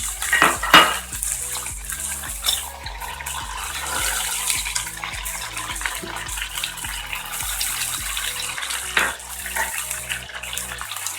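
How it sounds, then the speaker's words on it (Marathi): Chopped vegetables are tipped into a cooking pot for Maharashtrian bhogichi bhaji, giving clattering knocks and scrapes of pieces and utensils against metal, with a brief water-like rustle, fairly close and with no talking. "हे सगळ्या भाज्या घालून घेऊया आपण."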